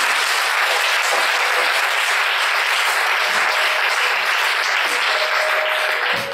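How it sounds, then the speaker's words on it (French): A large crowd at a religious gathering claps and cheers loudly and continuously, a dense, steady wash of applause with no pauses, close and enveloping throughout. "Est-ce qu'on va acclamer très fort? Acclamez pour moi, acclame très très fort."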